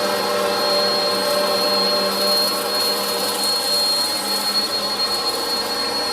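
A Eureka upright vacuum cleaner runs steadily on its own, a loud continuous motor whine with a high airflow hiss and no pauses.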